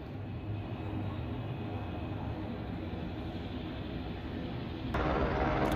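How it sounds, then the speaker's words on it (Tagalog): A helicopter in a residential area of Kathmandu, Nepal, preparing to take off: a steady engine and rotor roar that grows suddenly louder and brighter near the end, with no voices. "papalipad na ang helicopter"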